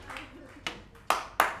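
Audience clapping at a comedy show, heard as only a few sharp, separate claps spaced about half a second apart, fairly close, over a quiet background.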